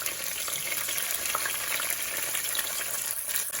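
Minced garlic added to ginger in hot oil on medium heat gives a constant, even sizzle with a faint crackle throughout, close and without speech.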